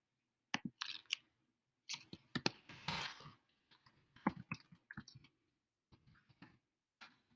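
Quiet clicking of keys on a keyboard, typed in short irregular bursts with pauses between them.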